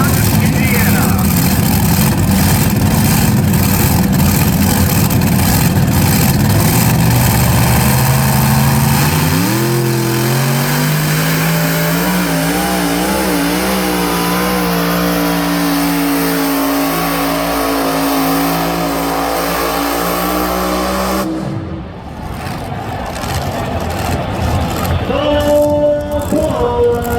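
A modified-class pulling tractor at an NTPA night pull in Bowling Green, Ohio, roars loudly and close, its engine revving and climbing in pitch over a long run before cutting off abruptly, then restarting, while an announcer talks over it.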